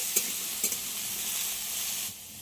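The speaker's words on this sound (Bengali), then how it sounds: "আলুটাকে খুব ভালো করে ভেজে নেব" Potatoes sizzle in a pan with a constant bright hiss, broken by two or three sharp scraping stirs early on before the frying quiets slightly at the end.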